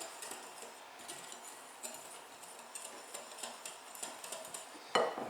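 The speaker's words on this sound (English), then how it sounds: "Let's give that a whisk." Flour and baking powder get whisked in a bowl, a soft, quiet patter of quick light ticks and scrapes in a steady rhythm, ending with one sharper clink.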